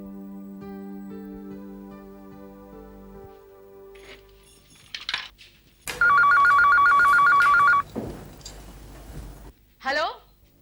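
A telephone rings in a household scene in a short burst of bright, warbling electronic trills, loud and close, after quieter music and scattered sounds. A brief clatter follows, then a short voice.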